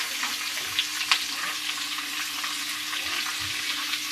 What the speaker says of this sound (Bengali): হালকা করে একটু কষে দাও বন্ধুরা দেখুন বন্ধুরা, আমি এটা নাড়তে নাড়তেই এর মধ্যেই আমি সব কিছু দিয়ে দেবো